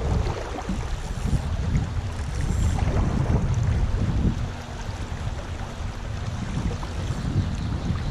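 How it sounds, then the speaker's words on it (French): Wind rising by a river during trout fishing, a steady gusty roar with heavy microphone buffeting and rushing water underneath, swelling and easing without talk. "Quand le vent est en train de se lever"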